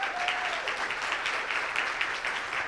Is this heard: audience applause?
yes